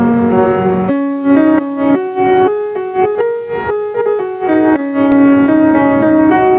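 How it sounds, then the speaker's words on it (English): The Korean folk song Arirang plays as a flowing pentatonic melody of held and stepping notes on a single instrument, moderately loud and alone without any talking. "Arirang, which is the song of Korea. This is a pentatonic scale from an Asian culture."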